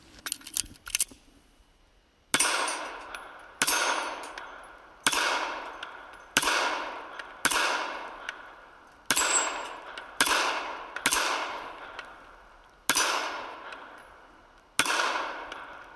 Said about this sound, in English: Just trying to give an idea of how the steel reacts.